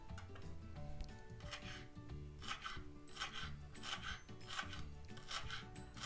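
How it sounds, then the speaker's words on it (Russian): A knife finely chopping a small bunch of dill on a board, a quiet, steady series of rasping, tapping cuts in irregular rhythm, heard close up without talk. "Крупные стебельки отрезаем и мелко шинкуем."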